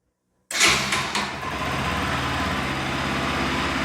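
Bajaj Pulsar 200 FI motorcycle engine cranking to life after silence, a sharp start followed by a steady, close, rhythmic idle that settles and continues to the end.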